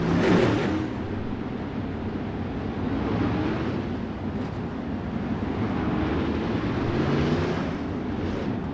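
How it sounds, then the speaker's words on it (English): A race car engine fills the scene with a steady, roaring drone, rumbling continuously with slight swells as if revved, mixed with broad outdoor noise. "somebody out there is revving that engine up pretty good"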